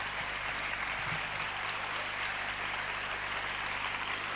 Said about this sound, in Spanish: vamos a recibir con un fuerte aplauso a Lorenzo Fernández y su ponencia